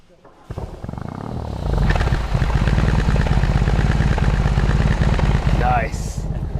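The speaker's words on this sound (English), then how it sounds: "Start button starts the engine." A Bavarian engine is started with its start button, cranking briefly before catching into a loud, rumbling idle that settles and holds, heard close up with a short high whine near the end.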